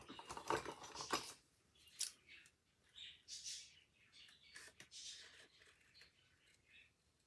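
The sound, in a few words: scissors trimming paper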